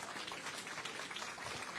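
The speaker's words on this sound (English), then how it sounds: "Miriam Porte, a round of applause, please." Sustained applause from an audience at a film award launch ceremony, a dense steady wash of clapping filling the whole moment with no voices on top.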